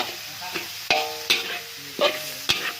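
Spicy rat meat being stir-fried in a pan: a steady sizzle with sharp scraping clatters of the spatula at irregular intervals, loud and close, with no talking.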